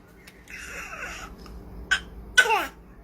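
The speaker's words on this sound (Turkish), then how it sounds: "Bir de öksür bir daha öksürelim." A baby girl coughing on cue from an adult at home: two short, sharp coughs close by, with a soft vocal sound before them and quiet pauses around them.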